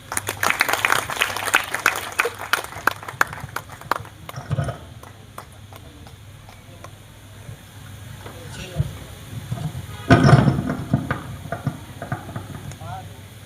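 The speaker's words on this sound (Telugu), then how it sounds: "చప్పట్లు కొట్టండి" Audience at a magic show claps in a burst at the start, then thinner scattered clapping with some clicking noises, and a brief louder flurry of claps later on.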